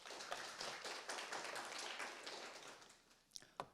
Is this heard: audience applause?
yes